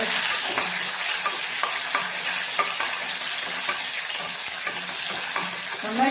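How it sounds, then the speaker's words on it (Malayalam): Garlic frying in a hot Kerala cheenachatti, a loud, dense, steady sizzle close up, broken by repeated scraping strokes of a spoon stirring against the pan, with no voices. "വെളുത്തുള്ളി നന്നായിട്ട് മൂത്താലേ കാര്യം"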